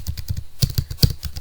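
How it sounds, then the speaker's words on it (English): Quick, close keystrokes clatter on a computer keyboard in an even burst of about a dozen clicks, with no voices. "Just type Grammarly Proofreader"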